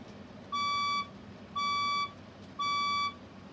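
A fire alarm in a building sounds three evenly spaced, loud electronic beeps, each about half a second long with short gaps between, over faint background noise.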